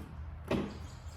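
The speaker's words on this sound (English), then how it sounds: "It's going to pop the door." Charge port door on a 2020 Hyundai Ioniq Electric popping open after its release button is pressed, a single short near click-thump in an otherwise quiet setting.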